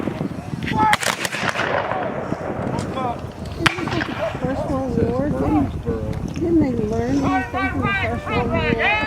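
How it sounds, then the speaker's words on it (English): Rifle volleys crack out at a Civil War reenactment, several sharp broadband bursts near the start and middle, with continuous narration and crowd talk running over the battle noise. "the tactics of firing volley after volley, trying to mass your firepower against the enemy"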